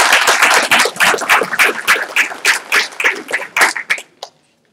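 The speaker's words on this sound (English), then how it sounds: "I think that deserves the first round of applause right there." An audience applauding at a live civic event in Hoover, with dense, loud, steady clapping that thins out and stops abruptly near the end.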